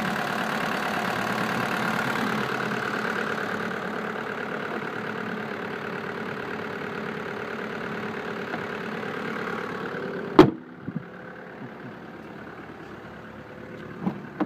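A 1996 VW Jetta's 1.9-liter turbo diesel engine idles with a steady low rumble for about ten seconds, then a sharp clunk as it shuts off, leaving near silence with faint clicks.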